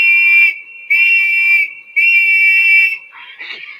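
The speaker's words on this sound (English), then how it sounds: "A whistle for calling your sheepdog." Shrill sheepdog whistle blown in three loud, sustained blasts with short gaps between them, each a piercing steady tone, followed by a softer, wavering trailing sound.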